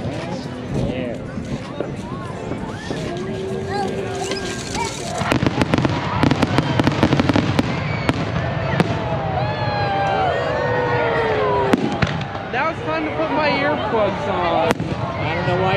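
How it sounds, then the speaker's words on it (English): Fourth of July fireworks at Newport Dunes Resort crackle and boom in rapid, overlapping bursts, loud and continuous, with crowd noise and people talking underneath. "Lots of cool fireworks."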